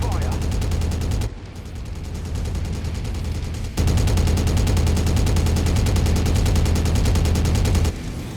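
Rapid mech machine gun fire in the MechWarrior video game, a loud continuous rattling burst that pauses briefly and then resumes, with game radio voices over it.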